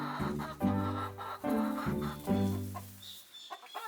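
Backyard chickens clucking close by, several low, throaty bursts in a loose rhythm, loud and clear with no talking.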